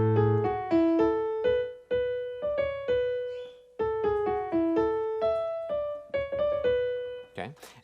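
The second theme of Mozart's Sonata in D comes as a gentle run of plucked-sounding, decaying notes in a steady rhythm, fairly soft and close with no voices.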